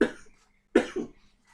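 A man recovering from illness coughs twice in a quiet room, one short bark and then a stronger double cough with a throaty tail, close and fairly loud, with no talk over it.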